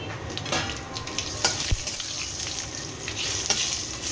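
Whole garam masala, bay leaf, dried red chilli and cumin seeds fry in hot oil with a bright, continuous sizzle, sharp pops and spatters breaking through, and a utensil clinks once against the pan.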